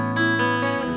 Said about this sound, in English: With Amplitude bypass, my guitar sounds like this.